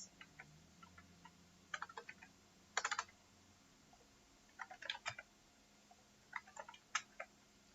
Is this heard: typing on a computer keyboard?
yes